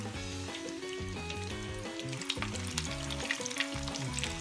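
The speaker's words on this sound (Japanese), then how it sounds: "二度揚げとか難しいことをせずに一回で揚げていきたいと思います" Japanese fried chicken (karaage) deep frying in oil in a single fry, a steady, dense sizzle with scattered pops and crackles, close and continuous throughout.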